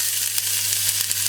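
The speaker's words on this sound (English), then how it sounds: "You can hear it sizzling, beautiful." Ginger sweating in olive oil in a pot, a continuous close crackling sizzle with a low steady hum beneath.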